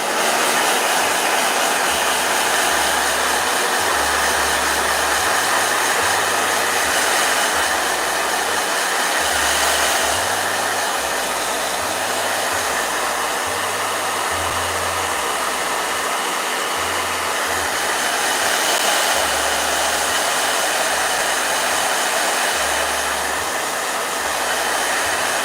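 A blow dryer runs continuously at close range, a loud, steady whooshing roar with a faint pulsing low hum, alone and unbroken for the whole stretch.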